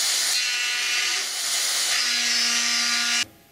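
Sanding a wooden guitar control cover, a continuous close abrasive rasp that runs steadily for a few seconds and then stops abruptly.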